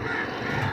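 Crows gathered outdoors around a distressed crow, cawing in a rough, dense burst amid constant background noise.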